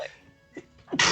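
A single sneeze near the end of a short stretch, preceded by a couple of faint breathy sounds, fairly close and moderately loud.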